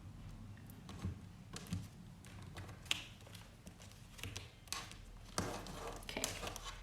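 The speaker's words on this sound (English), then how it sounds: "So I'm going to shuffle a little bit to get into the energies." A deck of tarot cards being shuffled by hand, with soft irregular riffles, taps and flicks arriving in short bursts, close and quiet with brief gaps between them.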